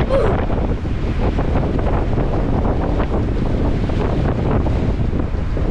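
Strong wind buffets the microphone in a continuous rough roar, with gusty surges throughout and no clear voices.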